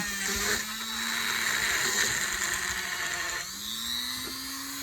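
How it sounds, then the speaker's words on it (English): A Dremel rotary tool with polishing compound works a sterling silver ring, giving a steady high-pitched whine with slight pitch shifts as the tool presses and eases off, close and without speech. "My Dremel's a little loose."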